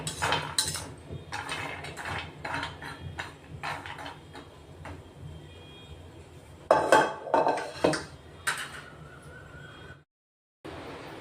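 Ingredients for children's nutritious laddoos being dry-roasted in a pan, with repeated scraping and clattering of a spatula against the metal in irregular bursts, close and fairly loud, ending in a brief silence.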